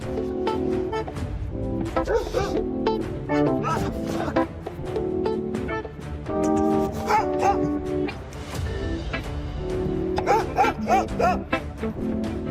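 A dog barks and yips in security-camera footage, sharp repeated bursts close by, mixed with a voice shouting and struggling throughout.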